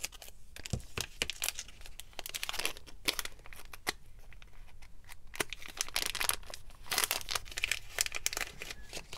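Plastic craft supply packaging crinkles, tears and crunches as it is cut open, with scissors snipping through tight wrapping in a close, busy run of sharp rustles and bursts lasting several seconds.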